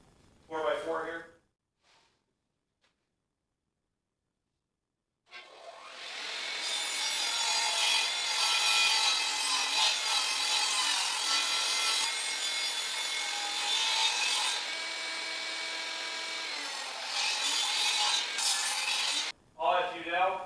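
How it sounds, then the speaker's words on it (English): A saw cuts through a wooden 4x4 in a long continuous pass, loud and close with a raspy, grinding tone, preceded by brief talk and silence and cut off near the end. "it's going to take about 3 passes to cut with this saw because it doesn't have the depth to cut through the full"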